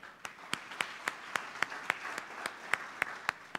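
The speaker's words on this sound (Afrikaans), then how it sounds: "lekker hande klap vir Nathan." Congregation at a church confession service applauds for a young man named Nathan: a steady run of sharp, evenly spaced claps, fairly close and moderately loud, with no talk over them.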